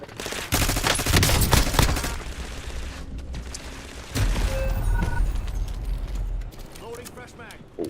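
Bursts of rapid video game gunfire crackle loudly in two long stretches with a short lull between, mixed with game effects and voices talking over the shooting.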